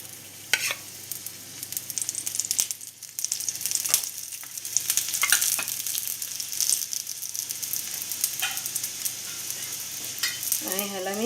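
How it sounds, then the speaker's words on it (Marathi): Panage cooking in ghee in a pan, a steady low sizzle broken by intermittent scraping and stirring clatters, with no one speaking. "आता याच्यामध्ये थोडंसं मी तूप टाकते"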